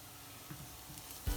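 Sliced onions with turmeric fry softly in a pan for a Kerala-style beef liver roast, giving a faint steady sizzle before a louder stir or clatter near the end.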